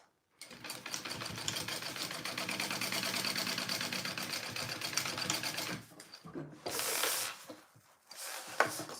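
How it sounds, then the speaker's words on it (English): Sewing machine basting the edges of a bag's base piece, a fast rhythmic whirring stitch run for several seconds, then stopping, with a short burst and faint handling noises after. "So I'm going to just baste my edges closed here for this base piece."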